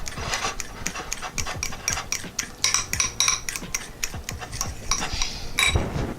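A utensil stirs a lumpy cornstarch mixture in a bowl, giving a steady run of scraping, clinking strokes against the sides, close and fairly loud, with no voices.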